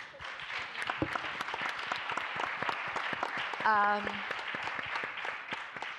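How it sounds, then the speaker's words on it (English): At a European conference on deploying bio-based solutions, an audience gives a sustained round of applause, many hands clapping in a steady, moderately distant roar, with a brief voice rising above it midway. "Ladies and gentlemen, we need a big round of applause"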